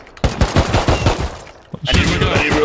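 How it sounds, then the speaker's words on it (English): Rapid bursts of gunfire in the video game Rust, a close string of sharp shots followed by a brief lull and then a harsher, sustained rattle, loud throughout. "Look, there's shooting right down there."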